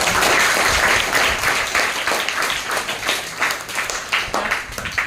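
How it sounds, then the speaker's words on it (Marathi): Loud, sustained applause from a school audience honouring a student's scholarship exam success at a Marathi school felicitation, steady dense clapping throughout with no talk. "जोरदार टाळ्या वाजवून"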